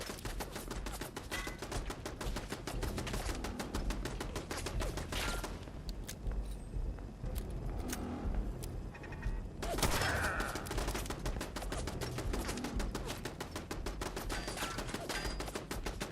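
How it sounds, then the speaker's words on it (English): Cannon fire in the video game Fallout 4 comes as a dense, relentless barrage of rapid booming and rattling shots, loud and continuous with heavier blasts mixed in throughout. "Cannons incoming!"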